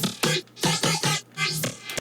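A vocoder effect with automated formant on a sung note, producing several short, bright, swelling vocal bursts whose timbre shifts as each note goes on, with no talking.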